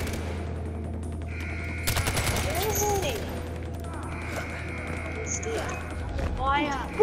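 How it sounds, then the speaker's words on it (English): Gunfire in the game Far Cry 4, with a short, sharp burst of rapid shots over a steady background hum and other game sounds, while someone talks at points. "Oh god, no, I'm being shot."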